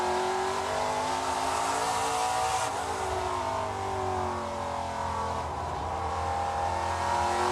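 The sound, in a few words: ARCA race car rolling through corner off throttle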